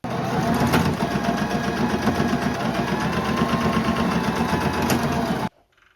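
A sewing machine runs a zigzag stitch on thrifted clothing, a loud steady mechanical whir with rhythmic needle chatter that continues for several seconds, then cuts off abruptly into near silence.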